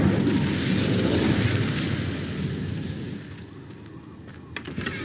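Incendio fire spell from Hogwarts Legacy erupting in a broad, roaring blast that swells loudly for a couple of seconds and then fades into a rumbling tail, ending with a sharp pop.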